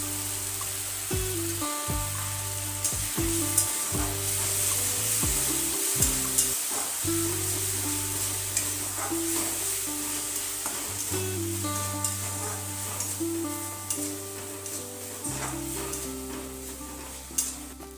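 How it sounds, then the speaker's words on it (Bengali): Onions sizzle in a pan while ginger, garlic and green chili paste is added for a village-style chicken curry, with a steady fry and scraping stirs beneath continuous background music. "পেঁয়াজ ভাজা হয়ে গেছে, এখন দিয়ে দেবো আদা, রসুন আর কাঁচা লঙ্কার পেস্ট"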